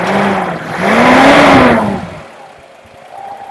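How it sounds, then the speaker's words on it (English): A rare Datsun 280ZX's fuel-injected engine, due for a valve adjustment, revs up loudly up close, holds its pitch, then drops back to a quieter idle. "that's just a good sounding engine"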